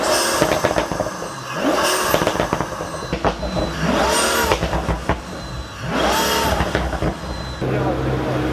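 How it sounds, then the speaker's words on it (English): A Pagani Huayra's turbocharged engine revs repeatedly through a titanium exhaust, rising and falling in sharp bursts with crackling pops, loud and close, with some background commotion. "That car is amazingly loud."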